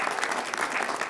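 Audience applause at a New York public safety announcement with Governor Kathy Hochul, steady dense clapping from a crowd throughout, fairly loud and continuous with no talk over it.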